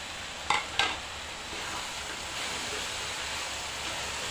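Star fruit sizzles steadily in a pan with salt, turmeric and cumin-coriander powder, a close hiss that opens with two quick clinks of a utensil against metal and then runs on alone.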